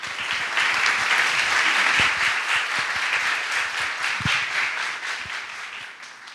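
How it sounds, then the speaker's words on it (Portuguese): Audience applause for a professor at a public lecture: a dense, steady wash of many hands clapping, loud and close, swelling quickly then holding before slowly thinning toward the end, with no talk over it. "quem eu peço a todos uma salva de palmas."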